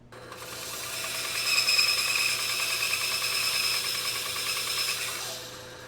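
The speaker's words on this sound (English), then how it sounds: "drilling an offset hole" A power drill whirs steadily for several seconds drilling an offset hole in a block, a high-pitched grinding drone that starts abruptly and tapers off at the end, with no voices.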